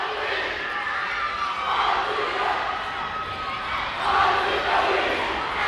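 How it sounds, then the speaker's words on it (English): Cheer sections of students yelling and cheering at a girls' high school basketball game in a gym, a steady dense crowd roar that swells twice to louder peaks. "Both cheer blocks getting into it already as we're getting ready to go here."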